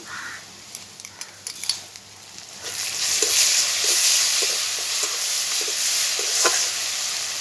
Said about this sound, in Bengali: এবারে লবণ দেব আদা রসুন বাটা এটা দিয়ে দেব